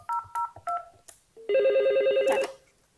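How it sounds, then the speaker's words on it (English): Telephone dialing tones for a VoIP test call: three short touch-tone beeps, a brief pause, then a longer steady tone, clear and close with no speech. "I will make a test call on this phone and I call one"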